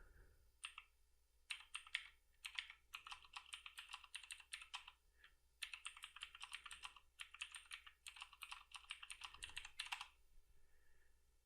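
Code being typed on a computer keyboard: quick bursts of close, crisp key clicks in uneven rhythmic runs with short pauses between them, fairly quiet overall and with no voices.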